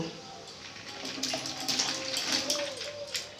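Water poured into a wok for boiling cut jackfruit and potato, a steady broadband gush and splash running throughout at moderate level, close by in a home kitchen.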